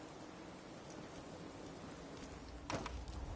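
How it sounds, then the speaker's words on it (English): Rain falling in the video game Fallout 4, a faint, even hiss of steady rainfall with one brief sharper knock near the end. "It's literally raining."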